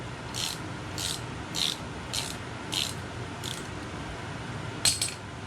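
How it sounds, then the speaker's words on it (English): Ratchet wrench loosening half-inch nuts on a motorcycle front wheel during a tire replacement, giving about seven evenly spaced, close ratcheting clicks over a quiet background, ending with a metallic clink. "we want to loosen up these two 1/2 inch nuts down here"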